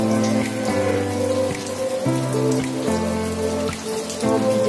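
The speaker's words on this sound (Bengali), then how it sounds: "দেখো আজকে জল ঝড় হওয়ার কথা ছিল, জল হচ্ছে।" Heavy rain pours steadily on surfaces with a light gusting wind, a dense, continuous hiss close by with no voices.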